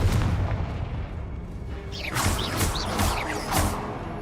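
A Confringo fire-blast spell in Hogwarts Legacy, a run of booming, crackling bursts over a rumbling game-battle background, several impacts landing in quick succession with no talk.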